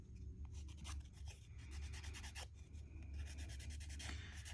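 Steady close rasping of a file roughening the surface of fingernails to prepare them for glue-on nails, a continuous scratchy rubbing with slight strokes, no talking.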